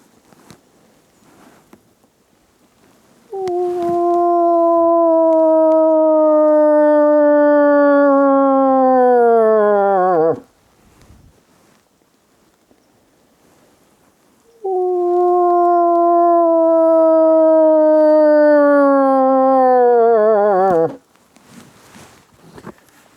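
A person vocally imitating a cow moose call, two long nasal moans, each several seconds, starting steady and bending downward with a wavering quaver at the end, close and loud with quiet gaps between.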